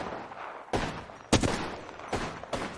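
Gunfire in the video game Apex Legends, a few sharp bursts of shots spaced over a couple of seconds against a low background hum.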